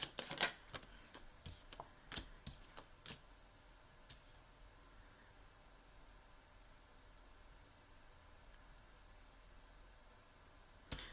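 Tarot cards shuffled for a clarifier draw: a quick burst of crisp card flicks and snaps over the first few seconds, then near silence apart from a faint hiss and one last tap.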